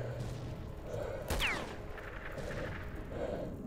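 Gunfire from an attacker in STALKER: Shadow of Chernobyl, a few scattered shots with one sharper burst standing out over steady game ambience.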